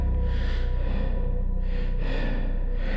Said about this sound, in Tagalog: Pero rinig ang mabigat na paghinga.